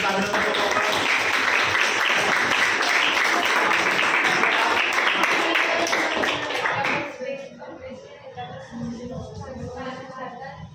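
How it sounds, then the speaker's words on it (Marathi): Classroom students break into sustained applause for a classmate during a history lesson, a dense, loud clatter of hands lasting about seven seconds before it stops abruptly and quieter room sounds and voices follow. "तिच्या नावाने एकदा टाळ्या वाजवा बरं सगळ्यांनी."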